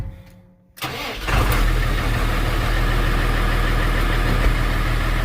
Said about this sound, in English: We'll start the old tractor.